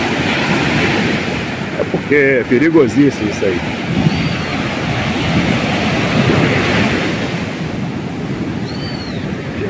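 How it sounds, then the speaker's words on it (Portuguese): Heavy surf pounds a sandy beach on a rainy day, a continuous loud roar of breaking waves mixed with gusting wind, with a person speaking briefly over it. "Gente, tá batendo muito mar."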